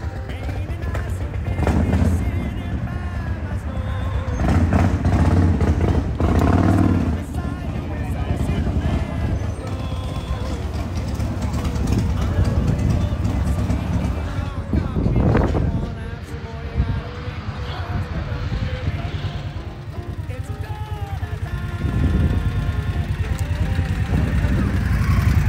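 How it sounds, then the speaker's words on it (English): An Indian motorcycle rolls up and idles, a steady loud engine rumble filling the whole stretch while several people talk and greet each other over it outdoors. "look what's just pulled in, an Indian"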